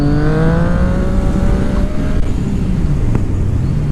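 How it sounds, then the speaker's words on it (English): A motorcycle engine revs steadily in second gear near 4,500 RPM at about 30 to 35 mph while the rider sets up a wheelie, a loud, continuous close-up drone whose pitch sags slightly partway through. "Pull in the clutch, give it a little more gas."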